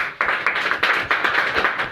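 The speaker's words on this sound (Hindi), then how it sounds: "एक बार और मार सकते हैं ताली।" Audience members at a High Rich business meeting in Himmatnagar clap together in a loud, rhythmic beat, with bursts landing roughly every third of a second.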